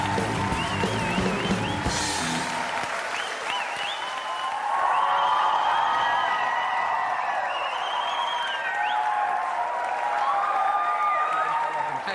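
A large studio audience applauds continuously for Karan Johar and Shah Rukh Khan at an interview show, dense sustained clapping with cheers and whoops rising over it.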